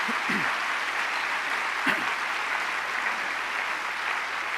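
Church congregation clapping in a broad, steady wash of applause that fills the space throughout, with a couple of brief low thumps standing out near the start and middle.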